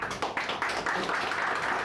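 Audience clapping at a Gujarati stand-up comedy live show, a short patter of hand claps repeating in light bursts through the moment, moderately loud with no talk over it.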